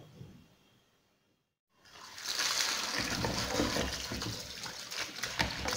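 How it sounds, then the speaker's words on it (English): Cut cassava pieces being washed in water make a continuous splashing, running-water sound. It starts after a quiet pause and stays close and fairly loud. "So you need to wash the cassavas well"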